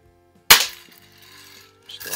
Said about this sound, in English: I'm shooting at that red diamond